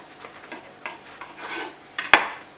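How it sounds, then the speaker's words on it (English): A bread knife saws through a homemade burger bun, giving soft rasping strokes that build toward a sharp crunch as the blade cuts through near the end, with no talking. "grab yourself a bread knife, and then just cut it straight down the middle"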